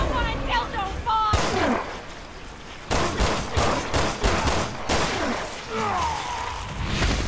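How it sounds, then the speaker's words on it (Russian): Gunfire in the video game Resident Evil Revelations 2, a character's first shots: a few sharp, loud bangs in quick bursts amid game effects and creature noises, with someone talking over them. "О, Мойра делает свой первый выстрел."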